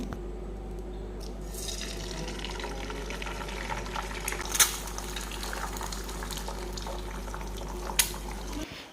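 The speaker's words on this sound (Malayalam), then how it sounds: "ആദ്യം നമുക്ക് ഒരു പാനിലേക്ക് കുറച്ച് ഓയിൽ ഒഴിച്ച് ചൂടാക്കിയതിന് ശേഷം മുട്ട പൊടിച്ച് ഇതിലേക്ക് ഒഴിച്ചു കൊടുക്കാം" Beaten egg frying in hot oil in a pan on the stove, giving a steady close sizzle and bubbling hiss with a couple of brief sharper crackles.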